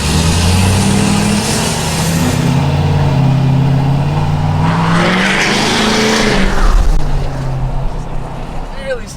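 A Ford pickup truck accelerating hard in second gear with firm converter lockup, its engine note rising loud and close from inside the cab while people talk over it.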